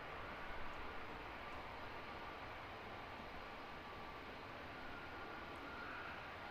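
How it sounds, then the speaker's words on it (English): A Wizz Air airliner, flight 1901 from Vilnius, on final approach into London Luton Airport: a steady, even roar of jet engines that holds at a moderate distance without a clear rise or fade. "on finals, Wizz Air flight 1901 in from Vilnius"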